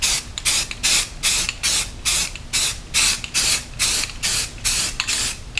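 Repeated short bursts of spray paint mist light green coats onto an airsoft sniper rifle, about a dozen evenly spaced hisses, close and loud, with no talking.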